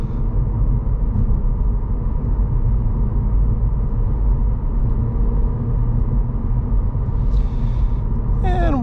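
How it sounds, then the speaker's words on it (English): A 2024 Cadillac CT4 V-Blackwing with its V6 engine and six-speed manual drives at low revs, a loud, continuous deep rumble and drone heard from the cabin, steady throughout with a faint chirp near the end. "This is a really good sounding V6"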